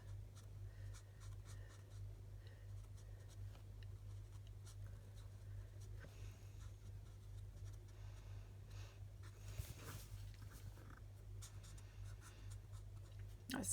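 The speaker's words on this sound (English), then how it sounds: "it's taken a wee bit longer to colour with the blends than it did with the watercolour pencils" Blending markers scratch softly across card paper while colouring, in quiet, irregular short strokes over a steady low electrical hum.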